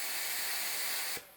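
A spray gun fitted with a newly replaced needle gives off a steady, loud hiss of atomized spray that cuts off sharply near the end, leaving quieter background.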